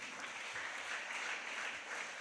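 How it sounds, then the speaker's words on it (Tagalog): A church congregation claps together in sustained, fairly soft applause, a dense even patter lasting a couple of seconds. "Palakpakan natin ang ating mahal na Panginoon."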